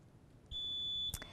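A quiz contestant's buzzer sounds at a high school quiz competition, a single steady electronic beep lasting about half a second, quiet and clear with a soft thump at each end.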